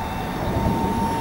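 A 3D-printed 30mm electric ducted fan Folland Gnat model jet in flight under half throttle, giving a steady whining fan tone with a constant high pitch over a soft rushing wash, moderately loud and alone.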